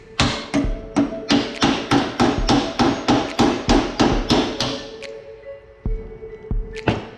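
A 3-pound hammer pounds a 7/16 hex bit into a damaged cylinder head bolt, ringing out in a rapid run of about fifteen sharp metallic strikes, then a pause and a few more blows.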